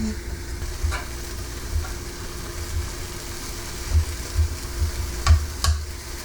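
Sam's Choice turkey bacon frying in a pan on high heat, about 375, cooked five thin slices at a time, giving a steady low sizzle with scattered soft pops and crackles throughout.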